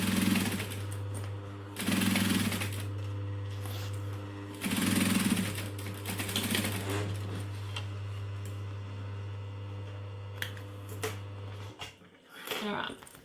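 A sewing machine topstitches 1/8 inch from a seam on a clutch bag, running in several steady mechanical bursts with short pauses between them, a constant low hum underneath, and a bit of handling noise near the end.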